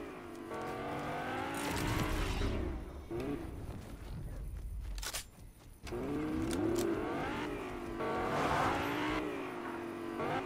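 A fast car in the Fortnite video game revving and accelerating hard, engine pitch sweeping up and down repeatedly, with a brief drop-off and tire noise midway before roaring back, loud and close.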